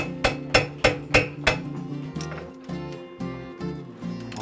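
A farrier hammers a horseshoe flat on an anvil, with five loud, evenly spaced metallic strikes ringing close up, followed by softer, quicker taps that echo faintly around a shoeing area.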